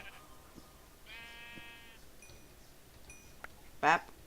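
Sheep bleating in a video game: a few short wavering bleats, one harmonic-rich call near the middle and a louder bleat near the end, with brief game sound effects between them.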